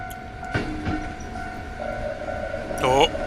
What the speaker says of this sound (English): Train. Here it comes.